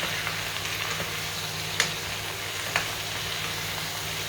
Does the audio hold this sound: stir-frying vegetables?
yes